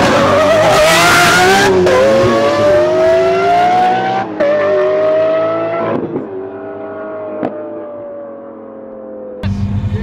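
A Lamborghini SVJ and a Ferrari 488 Pista in a roll race, engines screaming loud and close at first, pitches rising and falling through gear changes, then fading away into the distance before a sharp burst returns at the end.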